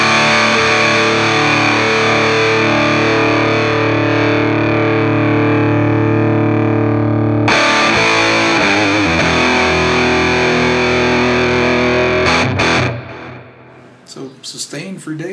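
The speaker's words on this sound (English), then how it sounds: "So now let's hear it with distortion." Heavily distorted electric guitar, a Music Man JPX in neck position, rings out in sustained, thick chords, loud and close, with a sharp change of chord midway and notes fading out at the end.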